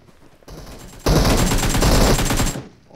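Rapid automatic gunfire in a video game, a loud sustained burst of shots lasting over a second, preceded by a quieter stretch of game noise.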